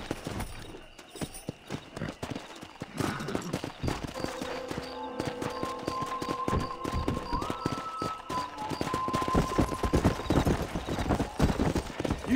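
Horse hooves clip-clop in a steady trotting rhythm in Red Dead Redemption, with faint tonal music and ambient sounds underneath, fairly quiet overall.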